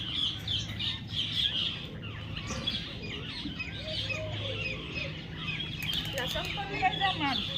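Parrots call in a Botad village setting with repeated bright chirps and squawks, fairly faint against rural background noise, with some birdsong overlapping.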